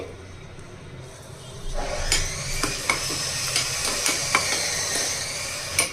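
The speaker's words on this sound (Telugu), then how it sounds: "ఆయిల్ వేడైన తర్వాత ఐదారు వెల్లుల్లి రేఖలు తీసుకుని కచ్చపచ్చగా నచ్చేసి వేసుకోవాలండి" Crushed garlic slices drop into hot oil after a quiet moment, setting off a steady sizzle punctuated by a few sharp clinks of a utensil against the pan.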